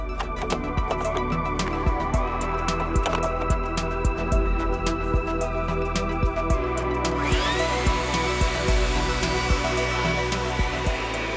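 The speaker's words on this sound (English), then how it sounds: "Always check your shop vac to see which side is the blower and which side is the vacuum side." A shop vac blows air from its blower side while cleaning the airbox of a 2.3L Ford Mustang EcoBoost. The steady, loud airflow roar runs throughout, broken by repeated sharp clicks and bumps.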